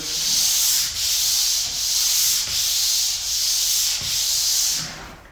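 A hand sander scrapes across drywall and corner bead in about six steady back-and-forth strokes, a close, loud, hissing rasp repeating in even rhythm.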